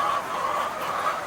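Laying hens, older birds in a poultry pen, cluck and murmur steadily as a close, continuous flock chatter with a bright hum of overlapping calls and no pauses.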